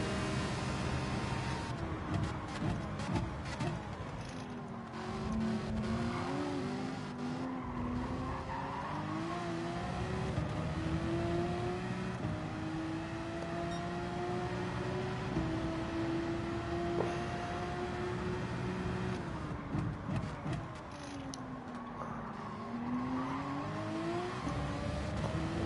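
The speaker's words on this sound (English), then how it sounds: "I can hear the noisy V8 engine." A V8 race car in Gran Turismo 7 lapping Spa in Belgium during an online qualifier gives a loud, continuous engine drone that rises and falls through gear changes, with tire squeal and skidding.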